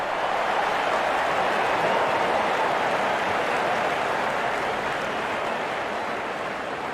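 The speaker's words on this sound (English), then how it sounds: "The crowd is enjoying every bit of this action." Cricket match crowd in the Real Cricket video game, a dense, steady roar of cheering and applause that stays loud and even for the whole stretch, with no distinct voices on top.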